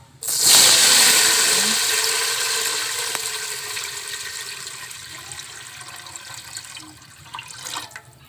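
A strong rush of water pours and splashes into a cooking pot of rice and lentils, loud at first and gradually easing into a softer, steady trickle.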